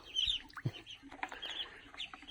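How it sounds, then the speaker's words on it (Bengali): Ducklings and ducks call in quiet, scattered, high-pitched peeps and chirps, with a couple of lower soft calls mixed in. The sounds come close together over about two seconds. "হাঁসের বাচ্চাগুলো যখন চাচামচি করতেছে হাঁস সবগুলো চলে আসতেছে"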